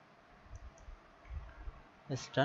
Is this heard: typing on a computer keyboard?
yes